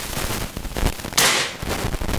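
A single sharp report from a PCP Grand Kinto air rifle fired once at close range: a loud, abrupt crack with a brief tail amid quiet background noise.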